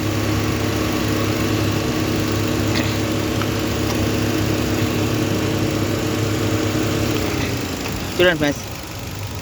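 A Hyundai Grand i10 Nios engine idles with its fan motor disconnected and a slight vibration complaint, giving a steady close low hum throughout. Someone speaks briefly near the end.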